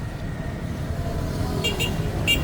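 Steady road roar from inside a car travelling on a highway, with a few short horn toots sounding near the end.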